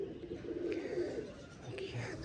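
Pigeons cooing in a loft on a cold, overcast day, soft low murmuring coos layered over a steady background hum, with faint rustling and a few brief higher calls.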